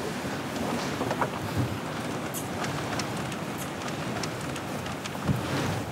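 Strong wind buffets a fishing boat at sea off the coast of Mozambique, a steady broadband roar with gusty rushes and occasional water slaps, loud and continuous throughout with no talking.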